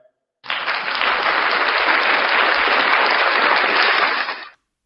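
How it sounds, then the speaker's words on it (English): Canned crowd applause triggered from a soundboard on a live show, a dense burst of clapping that starts abruptly, holds steady and loud for about four seconds, then cuts off cleanly, with no talking over it. "Thanks for the applause, man."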